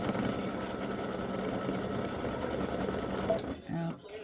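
A freestanding-lace embroidery machine stitches a pretzel earring design, its steady rapid needle chatter running continuously before stopping abruptly near the end, leaving a few faint mechanical clicks.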